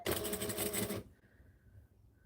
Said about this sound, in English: tuck that seam allowance in and then top stitch it down